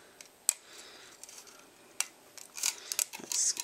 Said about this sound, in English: start to cut into where those lines are, ever so slowly